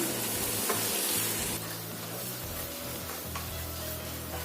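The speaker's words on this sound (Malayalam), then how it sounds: "ഇതിലേക്ക് മാരിനേറ്റ് ചെയ്ത് വെച്ചിട്ടുള്ള ചിക്കനും കൂടി ഇട്ട് കൊടുക്കാം. ഇതിനെ നന്നായിട്ടൊന്ന് മിക്സ് ചെയ്തെടുക്കാം" Marinated chicken frying with onions for a dry chicken fry, a loud, dense sizzle with stirring scrapes throughout, no voices.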